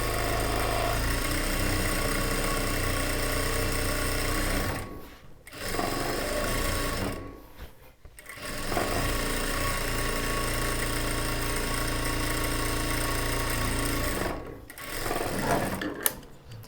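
A sewing machine stitches a churidar top, running in a close, fast, steady whir that stops briefly three times before restarting, with no voices.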